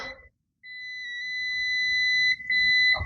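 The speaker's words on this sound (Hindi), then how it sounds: "उसके बाद यहाँ चेक कीजिए, आवाज आ रहा है बजर का" An inverter's buzzer sounds during a circuit check, giving a steady, shrill electronic tone that holds for over two seconds, dips briefly, then resumes. It is close and loud, with a short clatter at the start and no talking.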